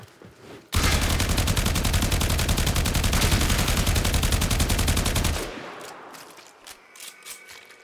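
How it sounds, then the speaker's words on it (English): Sustained rapid-fire gunfire from a weapon in the video game Warframe, a dense, loud mechanical burst lasting several seconds, then fading into quieter clicks and scattered in-game effects. "So let's go ahead and shoot one guy before it"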